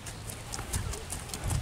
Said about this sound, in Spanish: va cambiando, comienza a braciar el caballo